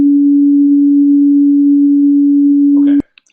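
A synthesized pure sine tone at middle C, steady and loud for about three seconds before cutting off abruptly, followed by a couple of faint clicks.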